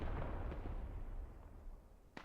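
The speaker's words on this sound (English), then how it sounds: "Mortars pounding away at fortified farmstead" Mortar rounds pound a fortified farmstead in a multiplayer war game battle, heard as a dull low rumbling barrage with a sharper single impact near the end, fairly quiet and distant.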